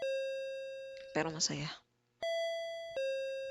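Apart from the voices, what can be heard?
doorbell ringing in Japanese horror video game Akai Onna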